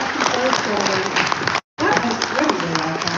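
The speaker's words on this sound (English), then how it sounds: "let's give them a round of applause before we open up the story." Applause from an audience at a live watch event in Dubai, a dense steady patter of many hands, with voices talking over it and a brief gap midway.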